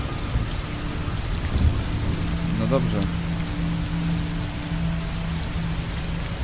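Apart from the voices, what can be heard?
rain falling in Heavy Rain video game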